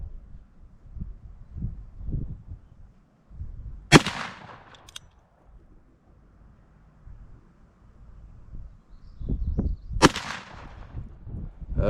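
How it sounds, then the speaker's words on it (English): Two sharp, loud shots from a Ruger New Model Blackhawk revolver fired outdoors at a target, the reports spaced about six seconds apart, each with a brief crack and short echo over low background rumble. "Let me fire 2 more rounds. I want to see if I can get the last 2 there on target."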